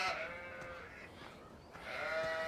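Sheep in Landwirtschafts-Simulator 17 bleat at moderate volume, with two wavering bleats separated by a quieter pause and a soft background hiss.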